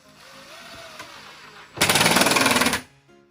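A power screwdriver whirs in one loud burst of about a second, driving a screw down into a wooden module, after quieter workshop background.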